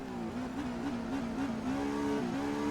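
A race car in rFactor 2 at Daytona slides and spins on grass, its engine droning steadily with wavering pitch throughout, loud and continuous with no talk.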